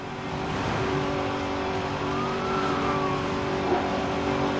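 A McLaren SLR's engine running in Midnight Club 3, a steady droning hum that rises slightly in pitch partway through, with a faint tire whine, moderately loud and continuous without speech.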